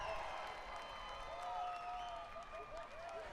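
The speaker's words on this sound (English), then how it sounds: "A round of applause for Guinness, ladies and gentlemen" Racetrack crowd at Canterbury Park applauding a racehorse, a steady, moderately distant wash of clapping with scattered cheers and announcer-style voices and tonal whistles running over it.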